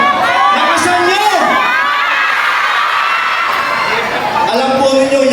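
Large crowd at an outdoor political rally for local candidates in Gerona, Tarlac, shouting and cheering loudly and continuously, with children's shrill voices prominent throughout.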